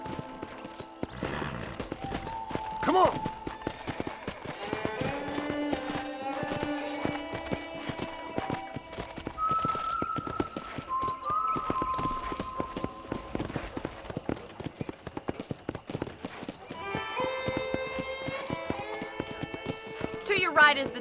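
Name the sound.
horse riding hooves in video game Red Dead Redemption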